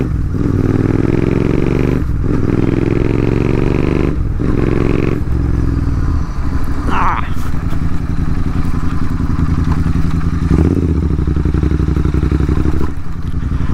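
A GT650 motorcycle ridden at night: the engine drones close and loud, with brief dips where the rider shifts gears before it pulls steadily again, and no talking over it.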